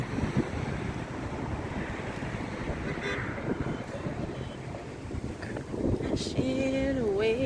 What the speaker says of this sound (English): I love these crashing waves.